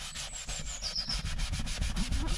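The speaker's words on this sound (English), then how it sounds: "Let's give it a rub with what's left over on the sponge" A sponge rubs leftover leather conditioner into an old Rover P4 leather car seat, making a steady, close swishing scrub in quick back-and-forth strokes, with no talking.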